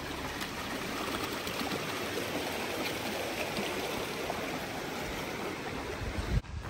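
Creek water flows steadily near Onion Valley on the trail to Kearsarge Lakes, a broad continuous rushing wash with no voices and a brief bump right at the end.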